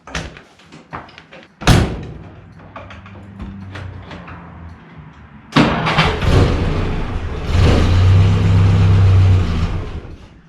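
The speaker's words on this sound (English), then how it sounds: "So let's see how it starts." After a few knocks and a door slam, a Jeep engine cold-starts after sitting for weeks, cranking and catching into a loud, rough idle that revs up close by.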